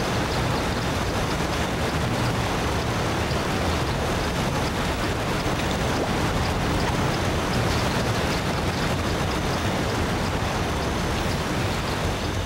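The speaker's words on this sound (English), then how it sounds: "God, that waterfall is loud." In SpongeBob SquarePants: Battle for Bikini Bottom, a roaring waterfall sends out a thick, unbroken hiss of crashing water, loud and constant throughout, with no speech.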